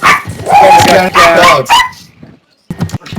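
A dog gives loud, close barks and yips in quick bursts, followed by a pause and a few shorter yelps.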